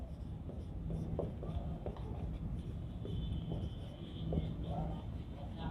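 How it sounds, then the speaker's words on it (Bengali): Chalk or marker writing on a classroom board, heard as faint scratchy strokes and taps in short irregular runs, quiet and close, with a soft hum and faint speech in the background. "তাই আমি এটি মুছে দিয়ে এরপরে লিখছি"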